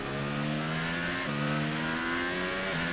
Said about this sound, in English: You can actually hear it in the engine how much less power it's putting down.